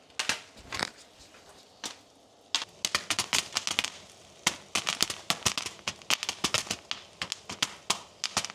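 Popcorn kernels pop in melted butter over medium heat, sharp cracks starting sparse then quickening into a dense, irregular burst of close, loud pops.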